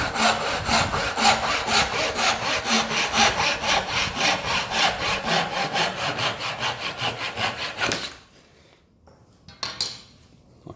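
Steady back-and-forth strokes of a hand saw cutting through wood, rhythmic and close, stopping abruptly followed by a couple of light knocks, while making a wooden marking gauge.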